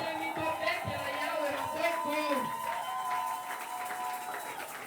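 A church congregation applauds and cheers the Lord, steady clapping and voices filling the room alongside sustained music and a raised voice.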